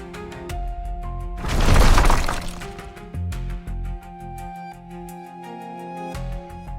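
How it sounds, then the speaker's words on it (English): A sudden gust of wind blows scaffolding down onto several cars, giving one loud, sharp crash of breaking and clattering metal and glass that swells and fades over a second or so, set against music. "A sudden blast of wind sends the scaffolding crashing down onto several cars"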